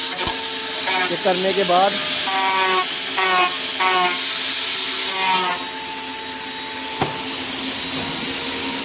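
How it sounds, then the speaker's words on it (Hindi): A grinder levels the rough corners of molded plastic parts in a factory in South Korea, giving a steady, loud hissing whine that runs throughout while someone talks over it. "अभी ये ग्राइंडर से उनको बराबर करेंगे।"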